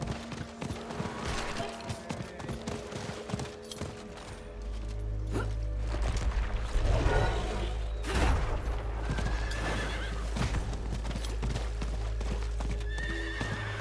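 A horse galloping in the Diablo IV video game, steady rhythmic hoofbeats over a low rumbling game soundscape with a neigh, loud and continuous without talk.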